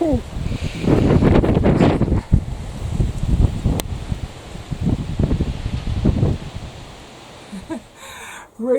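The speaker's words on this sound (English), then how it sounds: "Oh, here comes the wind again." Wind gusts through a garden on a chilly, bright day, blowing steadily as a broad rushing noise with rustling and buffeting against the microphone, then easing off near the end.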